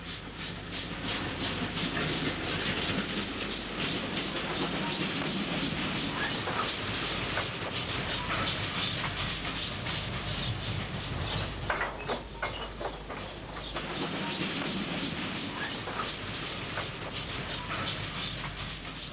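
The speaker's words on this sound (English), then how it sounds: "This view of a passenger train out on the line, hauled by another 264 tank, was recorded between Alton Towers and the next station to the north," A passenger train hauled by a 264 tank steam locomotive runs along a country branch line between Alton Towers and Oakamoor, its steady rumble and rhythmic wheel clatter continuing loudly and close throughout.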